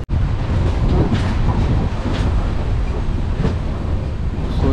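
A train pulling into Kochuveli railway station, heard as a loud, continuous low rumble and rushing noise that holds steady throughout, mixed with wind buffeting the microphone.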